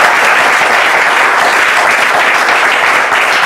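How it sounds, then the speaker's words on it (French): A large audience applauds loudly and without a break, a dense, close roar of many hands clapping together with a faint crowd murmur underneath. "On va applaudir très fort."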